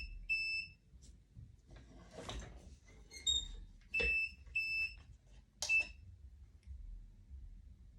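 A kitchen timer alarm beeps in short repeated bursts, loud and close, with quiet gaps and faint handling noise between the beeps.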